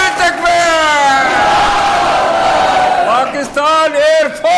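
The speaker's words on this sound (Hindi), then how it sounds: "ये पायलटों के लिए तालियां और नारा नारा लगा रहा है" Crowd chanting a slogan and shouting for Pakistan Air Force pilots, loud and close, with sustained massed voices rising and falling, a brief dip near the end before the chant surges again.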